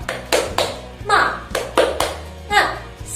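Children at a Sunday school service clap a rhythmic chant, sharp hand claps in a steady repeating pattern with voices chanting along between the beats, close and lively.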